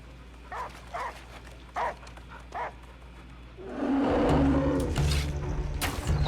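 Dog barking in the film Prey, a few separate barks in the first seconds followed by a louder growling roar and rumbling commotion, with no talking over it.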